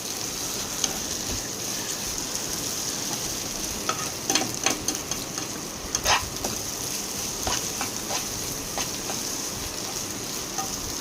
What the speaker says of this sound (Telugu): ఇప్పుడు నేను అల్లం వెల్లుల్లి పేస్ట్ వేసుకుంటున్నాను